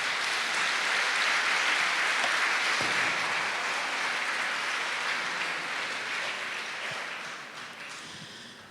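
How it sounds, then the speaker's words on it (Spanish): Congregation applause at a Pentecost service in a Barcelona church: a dense, continuous patter of many clapping hands that starts full and gradually thins and fades toward the end. "Un aplauso al Espíritu Santo,"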